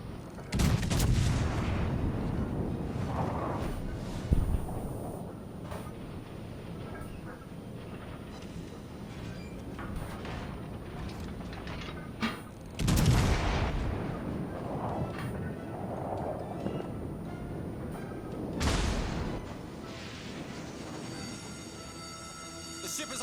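Heavy naval gunfire booms in a video game sea battle, several deep, loud blasts spaced seconds apart over a rumbling background, with occasional speech.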